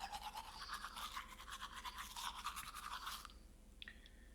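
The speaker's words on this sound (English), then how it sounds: "brush without wetting the toothbrush" Teeth are brushed with a dry toothbrush in the video game Rue Valley: rapid, rhythmic bristle scrubbing runs steadily for about three seconds, close and clear, then stops, followed by a faint short tone.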